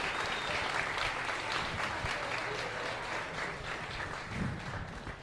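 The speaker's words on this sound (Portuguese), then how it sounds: "Uma salva de palmas para o nosso garçom." Audience applause for a waiter at a comedy club hypnosis show, steady dense clapping that fills the room for the whole stretch, tapering slightly near the end.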